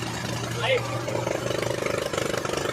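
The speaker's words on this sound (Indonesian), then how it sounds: "dengan mesin diesel" A diesel engine drives a bored pile drilling rig on a construction site, giving a steady low drone that turns into rhythmic thumping pulses, with a voice faintly over it.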